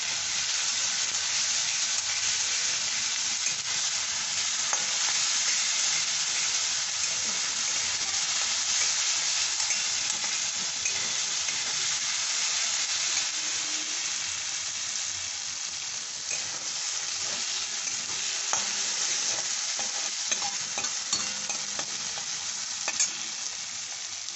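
Leftover rice with grated ginger is stirred in a hot frying pan, giving a constant loud sizzle and hiss with light irregular scrapes and taps from the spatula, and no voices.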